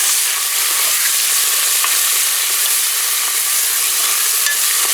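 Stew paste for beef stew with potatoes frying in hot oil, a loud, close, unbroken crackling sizzle with fine popping that holds steady from start to finish, no voices.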